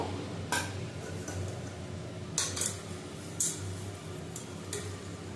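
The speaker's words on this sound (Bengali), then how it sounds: "পুরো কড়াটায় আমি ঘি মাখিয়ে নেব" Metal utensil scraping and tapping around a cooking pot while ghee is spread inside before assembling mutton biryani, with a few sharp clinks over steady kitchen background noise.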